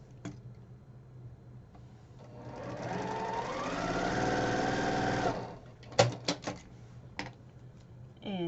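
A sewing machine stitches a Christmas quilt block, one steady close run of a couple of seconds rising slightly in speed, followed by a few sharp clicks and taps.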